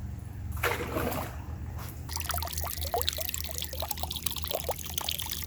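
A Hayward Poolvergnuegen pool vacuum lowered back into the pool, an opening rush of pouring water followed by busy bubbling, trickling and gurgling splashes close by.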